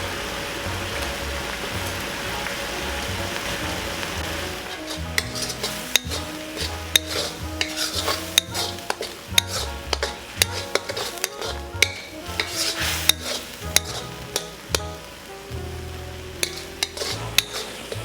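Chili paste stir-fried in a pan for chili crab: a soft steady sizzle, then repeated scraping and clanking of a spatula against the pan in irregular bursts, close and fairly loud, with no talking.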